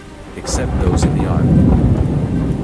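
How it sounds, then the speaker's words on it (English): Heavy rain pours down while thunder rumbles in deep rolling waves, with a few sharper cracks. A voice speaks over the storm. "the heavens opened, the rain poured down"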